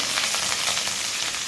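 Onions, curry leaves and chillies crackling in hot oil, a brief continuous sizzle heard up close with no voices.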